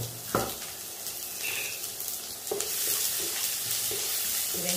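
Chopped onion hitting hot oil with mustard seeds in a pan, a bright steady sizzle with a few stirring scrapes and clinks, close and fairly loud, no voices.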